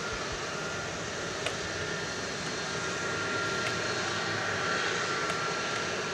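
An Airbus A300 jet, a 24-year-old airframe, rumbles at DFW Airport at night as a steady, broad engine roar holding at moderate distance throughout.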